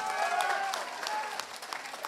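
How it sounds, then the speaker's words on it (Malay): Crowd applauding at Muhyiddin Yassin's political speech in Kangar, a dense, steady wash of clapping that holds at a fairly even level for about two seconds, with faint voices mixed in. "Tepuk tangan kuat-kuat"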